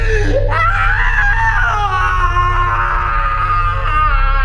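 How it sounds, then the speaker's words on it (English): A deep, drawn-out wail from a slasher killer crying out in pain in an 80s-style horror audio drama, loud and close, rising sharply then sustaining as an anguished scream-like moan over a low rumbling bed. "My train of thought is interrupted by a deep wailing, as if a cow were being slaughtered."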